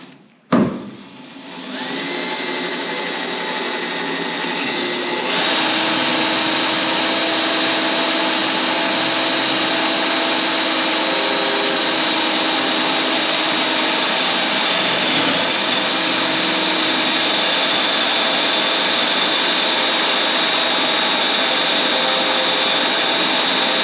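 A power drill works on car body parts such as fenders during paint prep. It starts with an abrupt burst, then gives a steady, loud, high-pitched whine that runs continuously, with no talking.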